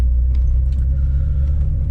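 A Honda Civic B20 VTEC drag car rumbles deeply and steadily at close range, a brief low engine throb with no voices.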